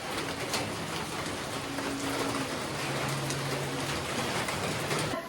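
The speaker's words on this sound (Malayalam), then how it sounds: "എന്നാലും അത്യാവശ്യം നല്ല മഴയാണ്." Steady rain falls outside, a dense, even wash of patter heard from indoors at moderate level with a faint low hum underneath and no talking.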